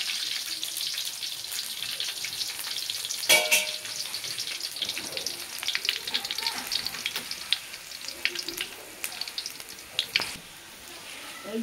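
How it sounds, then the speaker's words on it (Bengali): Garlic sizzling in hot oil for a home-cooked napa shak dish, a steady bright crackle with occasional stirring clatters and spatula knocks, fairly close and without speech. "শুধু রসুন দিয়ে তেলে দিব"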